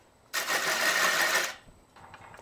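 A wood lathe spins a large juniper stump. The turning produces a single loud burst of whirring motor and cutting noise lasting about a second, then drops back to a quiet hum with faint rattles.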